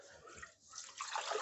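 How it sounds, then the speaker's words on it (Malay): Water is poured into a pot of mung beans in a faint, brief trickling splash that grows a little fuller toward the end. "Kita terus jatuhkan air."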